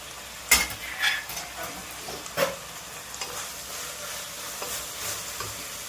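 A spoon stirs vegetables frying in a pan for vegetable upma, with a soft continuous sizzle and a few sharp scrapes and clinks against the pan, close and without talk.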